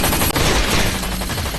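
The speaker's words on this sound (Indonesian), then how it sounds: "polisi Sanchez yang berada di sana, ia pun langsung beradu tembak dengan Luke" Dense gunfire from an action-film shootout between a police officer and a gunman, rapid overlapping shots and bursts filling the whole moment at close range with no pause.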